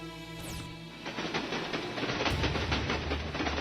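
A train rolls along a railway track in a movie scene, its rumble and clickety-clack building steadily and staying loud and close throughout after a brief tonal opening.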